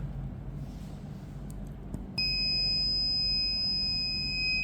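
A buzzer from a simple home security alarm project built as a student electronics assignment switches on partway through, a loud continuous electronic tone holding steady against quiet room noise.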